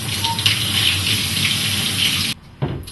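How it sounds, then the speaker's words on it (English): Tap water gushes steadily while a film developing tank is rinsed for Super 8 processing in Caffenol. The flow is loud and continuous, cuts off briefly near the end, then resumes. "Watching someone rinse out a developing tank over and over."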